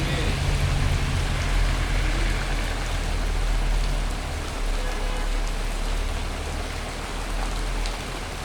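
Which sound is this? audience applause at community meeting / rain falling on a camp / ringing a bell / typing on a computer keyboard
rain falling on a camp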